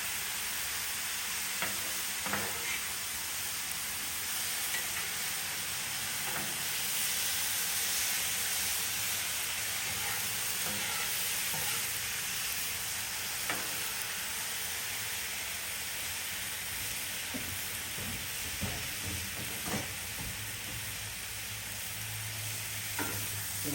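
Chicken and pesto pasta sizzle and hiss steadily on a Blackstone griddle, close and continuous, with occasional scrapes and clicks of a spatula stirring and flipping the food, no voices.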